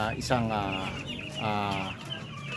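Darag native chickens in a backyard farm, with a rooster-like clucking call and a second drawn-out cluck, near and fairly soft against a faint background.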